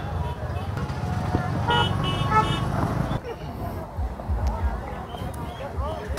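Dense road traffic jammed by a market in Ranchi, with car horns tooting over the continuous roar of vehicles, loud and close, while people talk through the first half.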